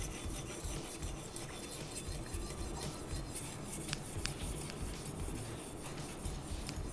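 Hunting knife blade being sharpened on a fine 7-5 grit elbor (CBN) stone, a steady continuous rasping scrape that runs close and alone throughout, with a few faint metallic ticks.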